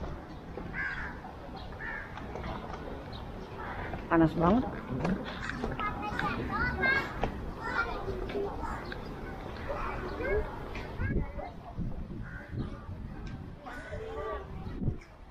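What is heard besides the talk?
crows cawing in a tree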